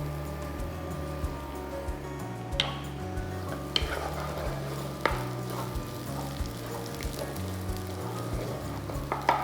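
Two large garlic cloves sizzle and fry steadily in hot oil in a pan, a continuous crackle with a few sharp clicks of stirring, close and moderately loud, no talking.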